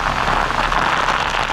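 Heavy rain pours down during Hurricane Melissa in Jamaica, a dense, steady roar of water hammering surfaces close by, loud and unbroken throughout.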